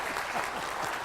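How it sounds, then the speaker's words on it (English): A conference audience at a water-industry general session claps briefly, a soft, diffuse patter of many hands heard from a distance with a voice faintly beneath. "Give her a hand clap"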